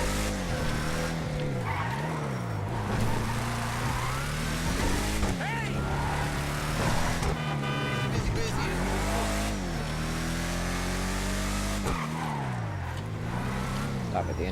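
A 1970 Dodge Challenger R/T, the Bravado Gauntlet Hellfire, driven in GTA 5 Online: a loud engine revs up and down through gear changes with some tire squeal, and someone talks over it.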